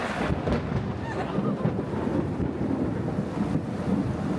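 Thunderstorm during a road trip in Japan: a steady, dense roar of rain and wind buffeting the microphone, with low rumbling thunder swelling beneath it, continuous and loud with no talk.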